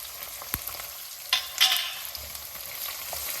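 Thinly sliced raw garlic sizzles in a hot pan, a soft steady frying hiss with a few sharp crackles and pops, one brief louder burst midway, faint and close.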